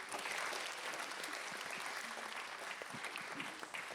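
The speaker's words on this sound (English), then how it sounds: "can you please give a big round of applause for Charity?" An auditorium audience at a school TED-style morning presentation applauds a speaker taking the stage: steady, dense clapping from many hands that stays loud and even throughout, with no talk over it.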